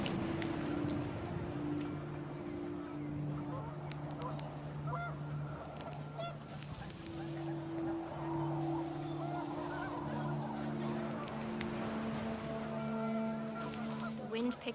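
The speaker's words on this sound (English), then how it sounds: "The wind picked up, and panicked geese appeared and quickly went." Panicked geese honk in the video game What Remains of Edith Finch as wind picks up, a repeated chorus of honks held over a steady gusty background at moderate distance.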